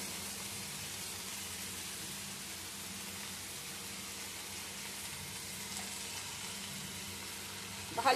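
Red amaranth greens cooking with shrimp in a pan, with a steady soft sizzle throughout and faint scraping from stirring, plus a slightly louder clatter right at the end.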